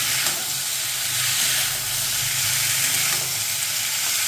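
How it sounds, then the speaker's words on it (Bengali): Cauliflower, potato and peas sautéing with spices in a pan, giving a steady, close frying sizzle with soft stirring scrapes throughout. "দিয়ে ভালো করে সব কিছু একসাথে কষিয়ে নেব"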